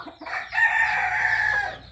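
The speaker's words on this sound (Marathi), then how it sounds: "या पोल्ट्री फार्ममध्ये जवळपास शंभर ते दीडशे गावरान कोंबड्या" A single free-range chicken call on a poultry farm, a short lead-in followed by a long, loud drawn-out cry close by, with faint background noise.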